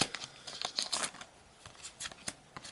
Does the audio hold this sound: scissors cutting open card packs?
yes